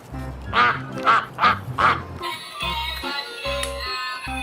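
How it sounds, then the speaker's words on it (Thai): A battery-powered yellow toy duck gives four loud, evenly spaced electronic quacks close by, followed by mechanical whirring and clicking with a few low honking tones. "เป็นเจ้าเป็ดเหลือง"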